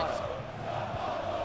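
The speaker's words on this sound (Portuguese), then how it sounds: "Torcida do São Paulo canta muito." Virtual São Paulo supporters chant throughout a FIFA 20 stadium match, a dense, steady crowd roar heard briefly in the background.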